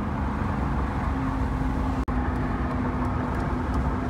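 A Lamborghini Countach replica cruises on the highway at around 55 to 60 mph, giving a steady, loud broadband road and engine roar with no talk, broken by a sharp dropout partway through.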